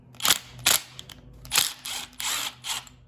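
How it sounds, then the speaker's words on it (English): Several short bursts of mechanical clicking and ratcheting from screws being worked loose on a Honda Accord purge valve, in four or five distinct spurts with brief pauses between them, close and fairly loud, with no talking. "So we're gonna remove these 3 screws."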